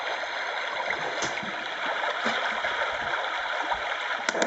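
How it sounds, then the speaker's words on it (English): Brook setting on a HoMedics SoundSpa portable white noise machine, a steady hiss of flowing, trickling water with faint gurgles and small splashy ticks, continuous and even, with no talking. "But there is also a brook."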